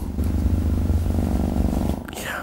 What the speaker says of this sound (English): If you can hear that purring there.